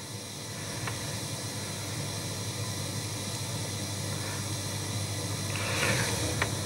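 A Unitra Diora Amator 2 radio tuned to shortwave gives off steady hissing static interference with no station, a constant noisy wash with faint crackles throughout.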